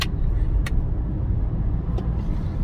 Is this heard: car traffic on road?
yes